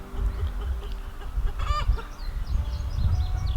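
A broody hen on a farm that has got into a swimming pool, giving a clear squawking honk midway over steady low rumbling and splashing background noise, with faint bird calls scattered around.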